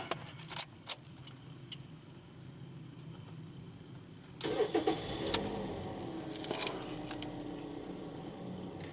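Keys jingle briefly, then a car engine cranks and catches midway, settling into a steady idle close by.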